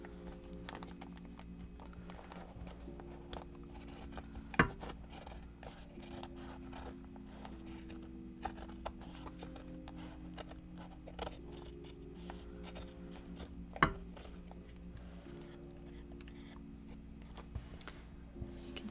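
Scissors snip through fabric near the stitching of a sewn cover, giving soft, repeated cutting and rubbing sounds over a faint machine hum, with a couple of sharper clicks and no talk.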